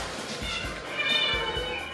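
Cats meow in a home shared by more than ninety rescued cats, a few soft, close cries rising over a low steady background hum, with no one talking.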